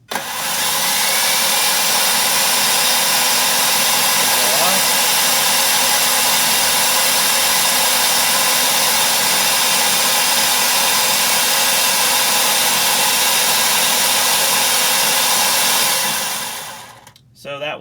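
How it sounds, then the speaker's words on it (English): A combat robot's weapon motor spins up at once and holds a loud, steady high-pitched whine for about sixteen seconds, then winds down quickly at the end. "we're going to spin the weapon motor and turn the radio off, and we want to see the motor come to a stop"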